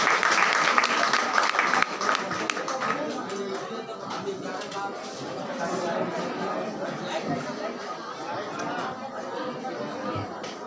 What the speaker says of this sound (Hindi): आप लोग तेज ताली के साथ परमेश्वर को धन्यवाद दीजिए।